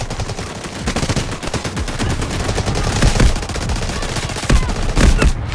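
Rapid bursts of Vector submachine gun fire in the shooter game Delta Force crackle continuously and loudly for several seconds, with faint voices barely present underneath.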